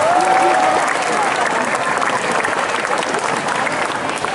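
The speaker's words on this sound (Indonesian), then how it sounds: "tepuk tangan semuanya" A school crowd claps at a Muharram celebration at SMP Negeri 1 Purwakarta, steady dense applause filling the room, with a brief whistle-like tone at the start over the clapping.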